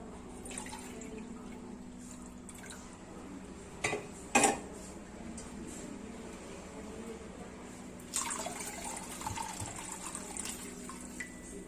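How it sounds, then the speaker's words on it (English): Water poured into a kadai while making gulab jamun, a quiet splashing and trickling with a couple of sharper clinks of the pan near the middle, then a steadier pouring stretch toward the end, no talk. "should pour the remaining water."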